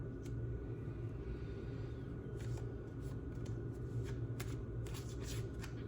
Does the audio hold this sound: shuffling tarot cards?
yes